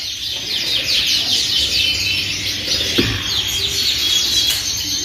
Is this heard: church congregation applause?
no